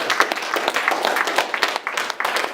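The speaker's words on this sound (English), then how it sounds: "let's give content a big round of applause" Audience at a game club's general meeting applauds, a dense, steady patter of many hands clapping close by that runs the whole time with slight swells and no voices on top.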